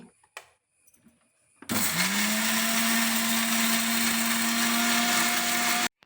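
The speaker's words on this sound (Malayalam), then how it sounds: "നമുക്കിനി ഇതെല്ലാം കൂടി മിക്സിയിലിട്ടിട്ട് നന്നായിട്ടൊന്ന് കറക്കിയെടുക്കാവേ." An electric mixer grinder whirs loudly and steadily as it grinds sugar and cardamom, starting abruptly after a few faint knocks and stopping sharply near the end.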